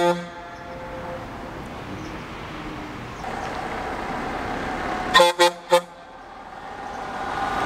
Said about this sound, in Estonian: bussijuhile meeldib ainult tuututada neid.